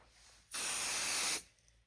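A single short burst of spray adhesive from an aerosol can hisses for about a second, close and clear, then stops against a quiet background, used for spray basting a quilt.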